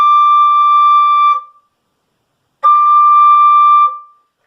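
Flute playing a high D, two clear sustained tones about 1.3 seconds each separated by a short pause, loud and pure with no other sound.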